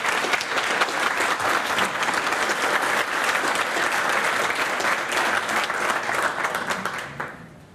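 An audience at the National Press Club of Australia applauding in a sustained dense roar of clapping, loud and steady, fading out at the end.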